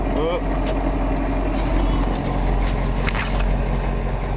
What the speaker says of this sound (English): So the vehicle we're in is an up-armored M1114 high-mobility multi-purpose wheeled vehicle, also known as Humvee